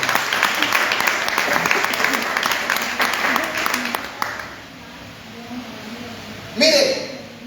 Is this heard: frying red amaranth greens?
no